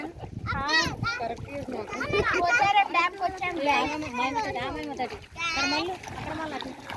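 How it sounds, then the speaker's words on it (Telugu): Children play and splash in water outdoors, with lively kids' voices and shouting running throughout and water splatter mixed underneath, fairly close and steady. "చూడండి, ఇక్కడ పిల్లలు చాలా ఎంత ఎంజాయ్ చేస్తున్నారో వాటర్లో"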